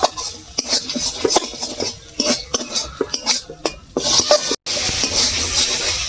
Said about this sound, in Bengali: পেস্ট করা আছে, এটাও দিয়ে দেবো এবার। একটু কষিয়ে নেব ভালো করে।